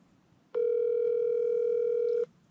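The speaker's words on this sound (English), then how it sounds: "Please leave a message at the tone." A steady electronic voicemail beep follows a recorded greeting on a phone line, one clean sustained tone lasting under two seconds, loud and alone over faint line hiss.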